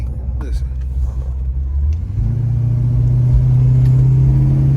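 A car engine rumbles from inside the cabin on a test drive after an injector change. The low hum climbs into a steadier, stronger drone partway through, and a voice talks over it.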